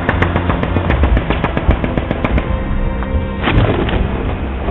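Gunfire along the Line of Control near Kotli, Azad Kashmir, at night: dense, continuous bursts of rapid machine-gun fire with scattered heavier thuds, loud and sustained with no talking.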